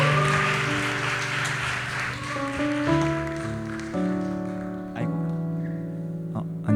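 A church youth congregation at a Sunday service gives a brief burst of applause to welcome a speaker; the clapping fades into sustained keyboard chords playing alone.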